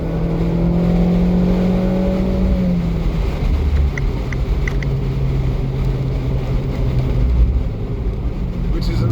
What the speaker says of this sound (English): with the open roof you can enjoy the sounds of the exhaust system even more